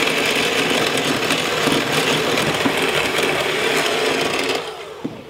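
Electric mixer whipping homemade shaving cream, a continuous whirring motor drone with rattling texture that stops abruptly near the end, close and fairly loud, with no talking.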